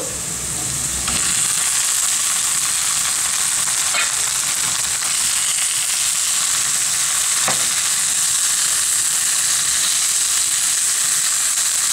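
Tuna added to caramelized onions frying in a pan, stirred throughout: a steady, close, loud sizzle with a few scraping stirs, no voices.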